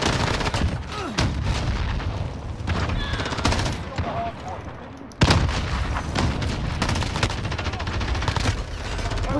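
MG-34 machine gun in Call of Duty Modern Warfare firing long, dense automatic bursts up close, with a short pause midway before the fire resumes, loud and continuous.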